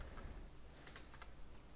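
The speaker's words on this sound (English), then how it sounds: "what we need to do is type import java.util" Java code being typed on a computer keyboard, a steady run of quick, close key clicks with a few sharper taps, with no voices.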